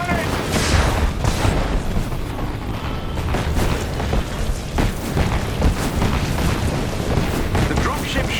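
In Marvel's Avengers, artillery fire explodes in a dense, continuous barrage of loud booms and rumbling blasts, with game voices speaking over the chaos.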